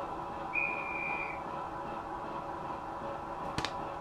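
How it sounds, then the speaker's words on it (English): A short, thin guard's whistle blast from a 7mm O gauge model train sound decoder, quiet and steady for about a second, over a faint hum, followed later by a brief click. "F17 is guard's whistle."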